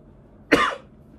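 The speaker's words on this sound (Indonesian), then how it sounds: "saya sampai batuk-batuk." A single short cough, close and fairly loud, standing alone against a quiet background.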